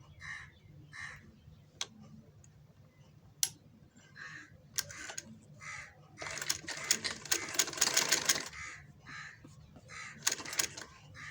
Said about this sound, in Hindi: ये इस तरह सारी सिंगल सिलाई लगा लेंगे।